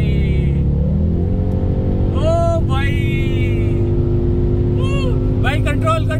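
Sports car roaring at high speed, around 180–200 km/h, with steady loud engine and road drone throughout, while people talk over it inside the cabin.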